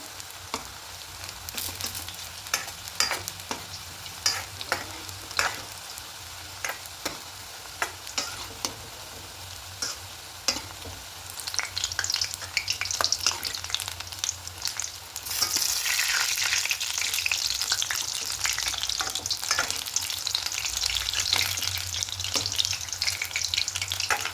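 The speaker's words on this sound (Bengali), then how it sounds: "প্রথমে মিডিয়াম ফ্লেমে এগুলোকে ভাজতে হবে তারপরে হাই করে দিয়ে একটু লাল লাল করে ভেজে দিতে হবে" Cabbage pakoras fry in oil, turned now and then with a spatula that makes repeated clicks and scrapes over a steady crackling sizzle, which grows louder and denser toward the end.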